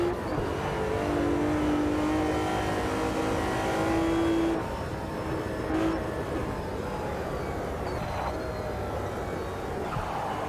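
Lamborghini Miura engine in a vintage racing video game at Oulton Park, a steady loud drone with sustained engine tones and a slight shift in pitch partway through, continuous and alone.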